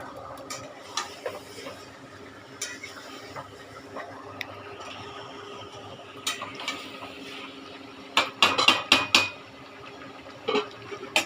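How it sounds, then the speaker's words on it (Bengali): Meat being sautéed in a pot on the stove, with scraping and clinking from stirring. Sharper metallic clatters bunch up near the end, with no one talking. "মাংসটা কষানো হচ্ছে।"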